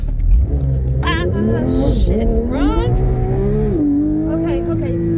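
A Porsche 911 GT3 engine revving close by, a loud, rising and falling flat-six whine that climbs in pitch, with someone talking briefly over it.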